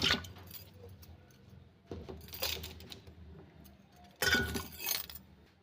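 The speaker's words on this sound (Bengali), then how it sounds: "কুকারে জল দিয়েছি আর আমি আলুগুলো সব দিয়ে দিচ্ছি" Potatoes are tipped into a pressure cooker holding a little water in three loud, close bursts of clattering and clinking, with quiet gaps in between.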